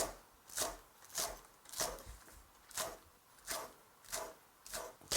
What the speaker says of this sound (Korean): 깍두기 길이로 같이 썰면 돼요